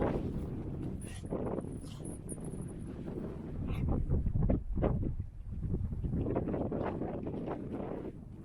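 A strong blizzard in Ryazan Oblast, Russia, roars across the microphone in heavy, rumbling gusts that rise and fall continuously, with a few faint higher rattles mixed in.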